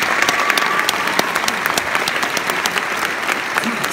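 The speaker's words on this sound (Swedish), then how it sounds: "En stor applåd för Jannike Stenlund!" Sustained applause from a large audience, dense and steady clapping filling the space with a few sharper claps standing out.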